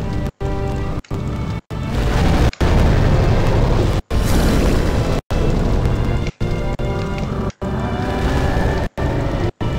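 Loud, dense booming explosion noise from a Demon's Souls boss fight against Flamelurker, sustained and rumbling with repeated sharp cuts and bursts, no talk over it.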